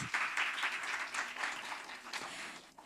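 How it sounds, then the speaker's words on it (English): Conference audience applauding as speakers are welcomed onto the stage, a short burst of full, steady clapping that gradually thins toward the end. "May you give a round of applause."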